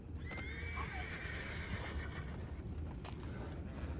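A horse in the video game Red Dead Redemption 2 whinnies once, a long wavering neigh over steady low rumbling background noise, followed by faint clip-clop and a sharp knock near the end.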